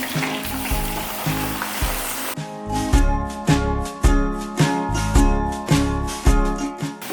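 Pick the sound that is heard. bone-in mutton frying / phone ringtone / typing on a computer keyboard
bone-in mutton frying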